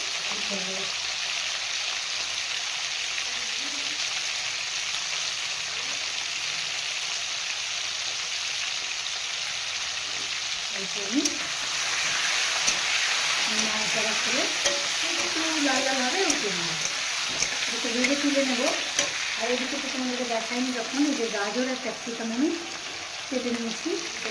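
Duck eggs sizzle steadily in a hot pan, a constant bright frying hiss running through the whole stretch while someone talks over it in the second half.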